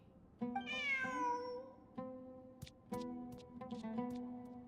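A cat meows repeatedly, several clear, drawn-out mews in a row, close and fairly quiet, with soft ticking in the background.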